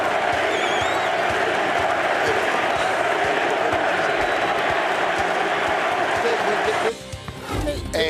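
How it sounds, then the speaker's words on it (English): Loud, dense stadium crowd roar at a 2014 New England Patriots NFL game, cheering for quarterback Tom Brady, sustained for about seven seconds before dropping off abruptly near the end. "And listen to the crowd."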